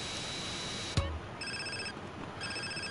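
A telephone rings in the video game GTA San Andreas, two bursts of electronic ringing tones following a low thump, clear against a quiet background.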